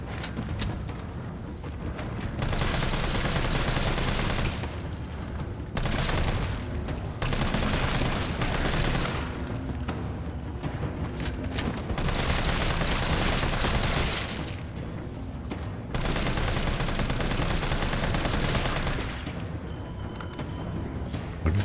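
Sustained gunfire in the video game Resident Evil 3, loud bursts of rapid shots repeating in several long volleys with brief pauses between them, no talking.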